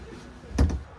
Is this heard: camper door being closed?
yes